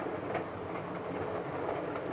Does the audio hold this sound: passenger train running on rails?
yes